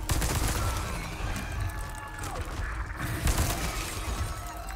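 Gunfire in Resident Evil 4 Remake, dense crackling shots and mechanical clanks layered over a loud, busy game mix.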